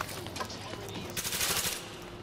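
Gunfire in Tom Clancy's The Division near Grand Central Station, with rapid automatic bursts that swell to a dense crackling peak midway before easing, and voices faintly beneath.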